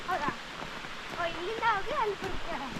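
A forest stream flows in the Kudremukh hills as a steady, soft wash of water. A person talks over it, close to the mic.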